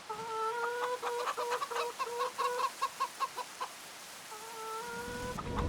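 Chickens cluck in the video game Farming Simulator 25, a rhythmic run of short clucks over a steady tonal hum, fading back to the hum alone near the end.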